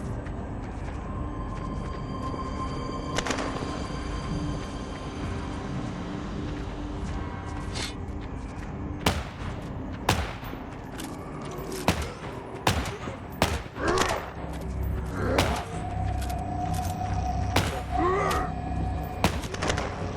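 Shotgun blasts in the game Descensus, sharp loud shots spaced irregularly over a steady game backdrop, growing more frequent toward the end.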